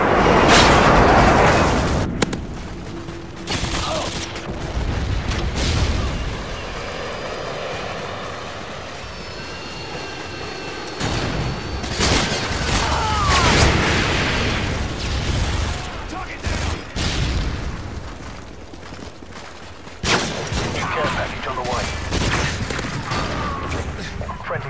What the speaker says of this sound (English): Friendly airstrike inbound. Harriers waiting on your mark.